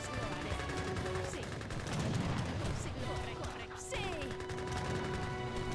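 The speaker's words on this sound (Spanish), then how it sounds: "Cuidado con esas ametralladoras, no me gustan nada." Rapid machine gun fire in a war video game, dense bursts mixed with other gunfire and explosions in a busy battle, loud and continuous.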